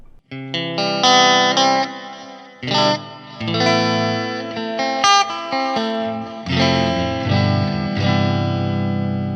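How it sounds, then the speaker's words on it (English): An electric guitar through a Fender Mustang GTX amp plays chords and notes drenched in reverb and stereo tape delay, the repeats trailing off between phrases. "if I want to add the reverb back in, if I want to add the stereo tape delay in again"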